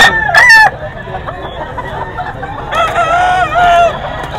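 Roosters on a Filipino farm crow loudly nearby, two long calls a few seconds apart, with scattered clucking from chickens in between.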